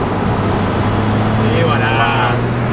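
A Ford Fiesta ST's engine drones steadily from inside the cabin, with road noise beneath it. The tone swells slightly as the car gently picks up speed.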